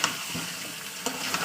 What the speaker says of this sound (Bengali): তারপর আমি গরম জল অ্যাড করবো।